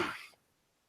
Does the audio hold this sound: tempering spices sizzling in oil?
no